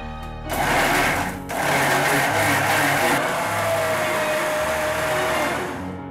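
A mixer grinder roars steadily, grinding tamarind with salt into a paste for a dry coconut chutney, starting with a short burst, a quick pause, then a continuous loud whirring drone that eases off at the end.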